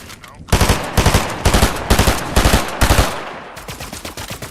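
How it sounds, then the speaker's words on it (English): Drum gun firing in Fortnite, a loud close burst of rapid automatic shots in five pulsing volleys, then a short trailing spray of fire. "Got a drum gun, boys, watch."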